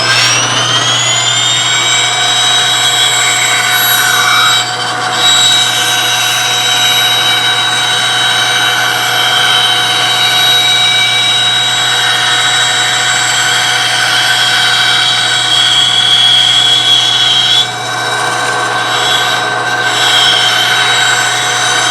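Woodworking jointer running as a board is fed through it: a loud, steady high whine with a constant low motor hum, lasting throughout, with a couple of brief dips where the cut changes.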